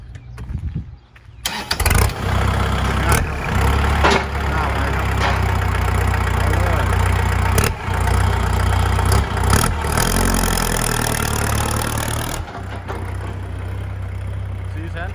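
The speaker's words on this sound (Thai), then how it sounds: "สตาร์ทแล้วขับดูครับ" A Kubota L5018 tractor diesel engine cranks and starts after a brief pause, then idles with a steady loud rumble and a few throttle changes, close by, before cutting out near the end.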